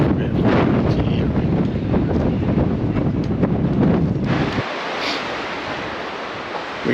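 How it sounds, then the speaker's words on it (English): Strong wind buffeting the microphone by a lake in Torres del Paine, a loud continuous roar that drops abruptly to a softer rushing gust near the end, no voices. "Very windy here."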